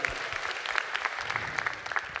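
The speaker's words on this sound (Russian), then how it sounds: "Ваши аплодисменты." Applause from a live audience at the final of a music contest, steady clapping throughout, moderately close, with no talk over it.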